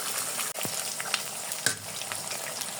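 Noodles and pasta with egg frying and being stirred in a pan, a steady close sizzle throughout with a few sharper scrapes and clicks of the utensil, no voices.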